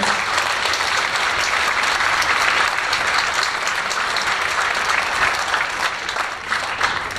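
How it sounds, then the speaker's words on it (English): Sustained applause from a school concert audience for the parents, a dense, steady wash of clapping hands that holds evenly loud throughout without any voices standing out. "Can we give a round of applause for all of our parents?"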